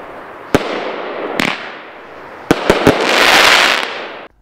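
Fireworks cake firing a series of shots, sharp loud bangs spaced irregularly, a few single reports then a quick cluster, followed by a sustained crackling hiss that fades out.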